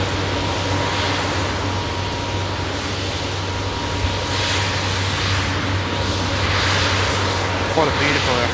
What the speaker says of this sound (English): What a beautiful aircraft, honestly.